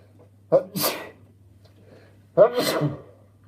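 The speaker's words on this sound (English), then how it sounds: "I'm going to sneeze." Two loud sneezes nearby, each a sharp intake followed by a forceful burst, about two seconds apart.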